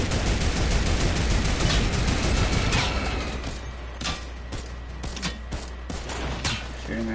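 Gunfire in Fortnite: a dense, heavy barrage that gives way to sparser, scattered sharp shots and clicks, moderately loud and without talk.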